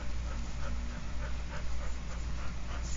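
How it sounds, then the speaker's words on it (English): A dog pants nearby in a quick, even rhythm of soft breathy puffs that continues steadily, ending in a short low sound. "that's my dog"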